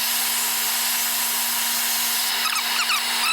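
Drill press running into a wood cabinet door workpiece, a steady loud whir with a constant hum, then rougher cutting texture near the end.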